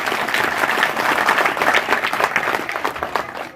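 An audience at a public address in a village in Churu, Rajasthan, bursts into applause, a close, dense patter of many hands clapping together that holds steady, then tapers off at the end.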